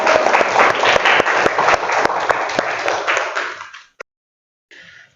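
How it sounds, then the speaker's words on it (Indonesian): Applause from a class for a student named Eliza during a biology teaching session, a burst of many hands clapping that fades out after about four seconds, followed by a single knock and a faint murmur. "Oke, tepuk tangan dulu buat Eliza."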